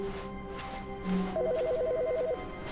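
A phone ringing in the video game The Stanley Parable: a repeating two-tone electronic trill, fairly loud and close, running for about a second over a steady low hum of background ambience.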